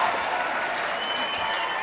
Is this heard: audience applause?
yes